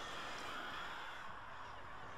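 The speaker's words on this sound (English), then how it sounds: "birds." Crows cawing in the Alan Wake video game, a dense raspy chorus of caws sustained at a steady level through the whole stretch, no voices.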